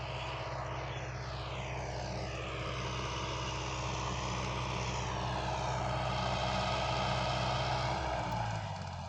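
Yuto 804 tractor engine pulling a KPS 4.2 cultivator across a field, a steady loud drone with a deep rhythmic throb heard close by and without talk.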